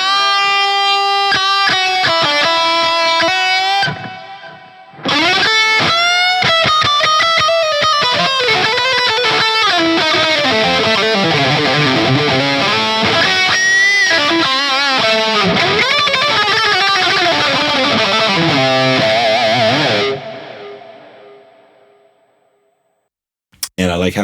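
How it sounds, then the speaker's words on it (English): An electric guitar lead through a Line 6 POD GO with a MESA Boogie Dual Rectifier preset, transistor tape delay and hall reverb plays sustained distorted notes with echoing trails, loud and continuous with a brief dip before cutting off. "So let's put on the transistor tape."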